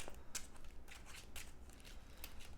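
Playing cards shuffled during an Eldritch Horror board game, in short crisp bursts, a riffling flutter repeated several times, close and fairly quiet with no talking.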